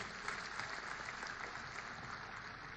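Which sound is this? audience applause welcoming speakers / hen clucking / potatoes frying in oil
audience applause welcoming speakers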